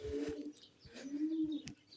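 Pigeon cooing at a Sufi shrine (dargah), two soft, rolling coos close by with brief gaps, surrounded by faint chirps from other birds.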